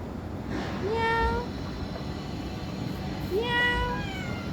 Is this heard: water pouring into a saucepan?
no